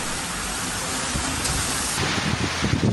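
Steady heavy typhoon rain from Typhoon Enteng in Aurora, Philippines, roars across the whole clip, a dense wash of noise that swells a little louder toward the end.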